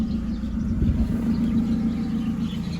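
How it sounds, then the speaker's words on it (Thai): An automatic Honda City sedan idles smoothly with a steady, even low rumble that holds at a constant level throughout, with no voices. "เครื่องยนต์นะฮะเดินนิ่งๆเดินเรียบๆเลยครับผม"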